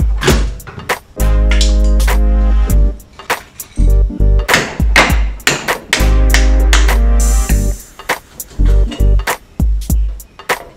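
Repeated hammer blows drive a new ball joint into a race car's suspension control arm, sharp metallic impacts coming in irregular bursts with some ringing, loud and close, with no talk.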